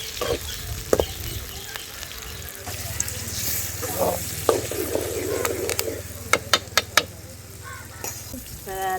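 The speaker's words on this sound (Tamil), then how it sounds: "தக்காளி போட்டு நல்லா வதக்கலாம்." Tomatoes fry and sizzle with onions in a pan over a village cooking fire for a fish curry, with steady crackling, stirring scrapes and a few sharp utensil clicks near the end.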